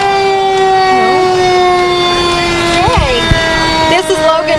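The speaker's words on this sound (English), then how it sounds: "To hear the sirens today." A Logan Fire Department truck siren wails loudly and continuously at a Pioneer Day parade, its pitch sweeping up and down in repeated yelps, with the steady drone of a horn underneath.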